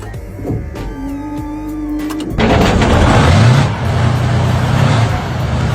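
A T-72 tank engine starts up: a whining starter and clattering give way to a sudden loud, rough diesel roar that settles into a heavy, rumbling idle nearby.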